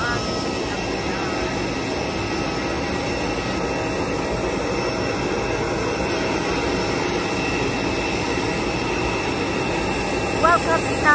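Loud, steady roar of an airplane's engines at Bohol Panglao International Airport, filling the whole stretch without a break, with faint talk beneath.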